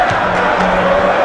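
Football fans roar in a packed stadium during an Asante Kotoko versus Hearts of Oak Ghana Premier League match, a loud, dense wash of crowd cheering and chanting with a sustained tone running through it.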